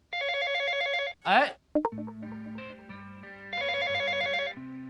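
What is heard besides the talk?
telephone ringing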